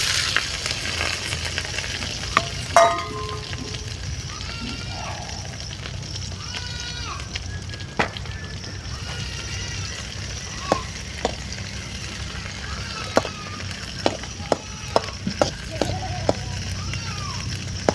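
Small onions sizzle and crackle in a pan over a damp, smoky wood fire, a steady frying hiss with occasional sharp pops and stirring clicks, while a person talks nearby.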